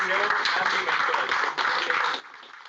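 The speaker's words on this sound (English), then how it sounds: "A round of applause for the entrepreneurs and the mentors." Applause for entrepreneurs and mentors at the close of a Startup India mentor masterclass, a steady broadband patter of clapping with voices mixed in, cutting off sharply near the end.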